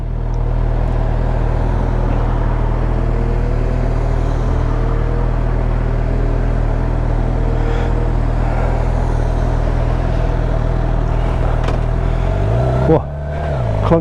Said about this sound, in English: Clunky first gear.